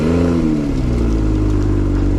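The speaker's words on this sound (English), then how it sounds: "you can actually remote start this. So let's triple tap that lock button and bring it to life." A 2024 BMW Z4 M40i is remote-started: the engine cranks and catches with a brief rising rev, then settles into a steady, deep, loud idle close by, with no talking.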